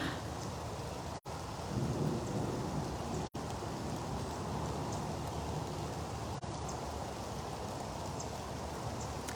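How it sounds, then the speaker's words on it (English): Steady heavy rain pours outdoors at a big cat rescue sanctuary, a dense close wash of drops with low rumbling thunder rolling underneath throughout, broken by a couple of abrupt brief dropouts. "as much as I would love to stand here in the rain and continue talking to you"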